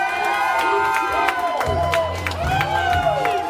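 Wrestling crowd at a women's championship match cheering and whooping loudly after the finish, a dense sustained roar with shouts rising over it throughout, alongside a tonal musical sound.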